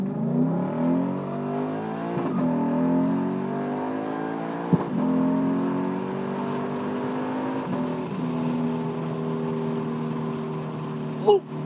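A 5-litre V8 car engine pulls away onto the road, its tone climbing through several gear changes in a steady accelerating drone heard from inside the car.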